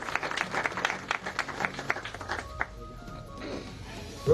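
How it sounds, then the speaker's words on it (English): An audience claps for a Rotary geriatric support group in Uganda, scattered quick hand claps fairly close for about two seconds, then thinning out and fading into a quiet room. "Clap for them."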